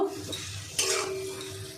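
Potatoes and boiled eggs stir-fried in a pan, a soft steady sizzle with a brief scraping clatter of the spatula against the metal partway through.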